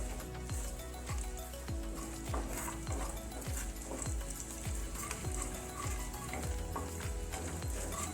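Cumin seeds and a broken red chilli roast in hot oil for paneer bhurji, a constant sizzle broken by regular scraping strokes of a spoon stirring in the pan, close and busy.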